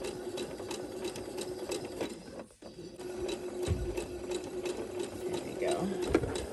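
A sewing machine runs a scant quarter-inch seam on a flying-goose quilt block, a steady close whirring broken by one brief pause. A person speaks briefly over the machine.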